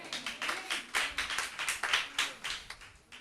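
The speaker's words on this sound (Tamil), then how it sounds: "நன்றி கைத்தட்டுக்கு." Irregular, fairly close applause from a church congregation during a pastor's sermon, a run of clapping bursts that rises and dips over about three seconds with no one talking.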